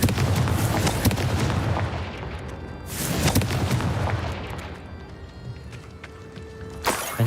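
A Confringo fire spell bursts in the Hogwarts Legacy video game, giving a loud booming blast with rumbling tails. More sharp bursts follow near three seconds and near the end.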